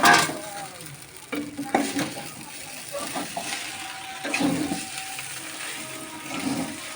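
Fried chow mein is stirred in a pan, giving uneven scraping and tossing bursts over a soft sizzle, with pauses between strokes and no clear speech.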